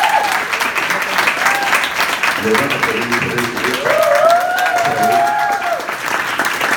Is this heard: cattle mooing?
no